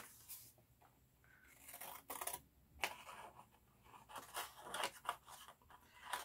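Sharp scissor snips and paper rustling come in irregular bursts, close and fairly quiet, with no talking.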